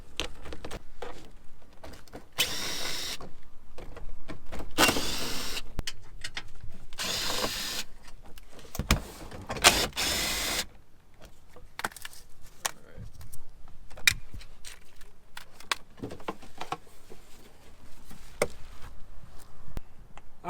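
A power driver zips small 10mm screws out of a plastic under-cover on a Nissan 350Z, in repeated loud whirring bursts separated by clicks, handling noise and short pauses.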